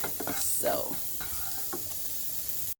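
Curry vegetable quinoa simmering in a single pot, giving a steady close sizzle and bubbling with a few stirring scrapes, continuous and fairly loud throughout before cutting off abruptly at the end.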